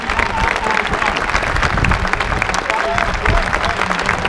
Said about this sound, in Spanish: Ahora le están dando un aplauso a la.